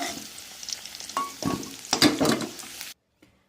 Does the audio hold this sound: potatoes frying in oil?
yes